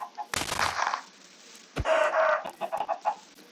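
Chickens in Minecraft cluck and squawk in a few loud, close bursts separated by short pauses, with no talk over them.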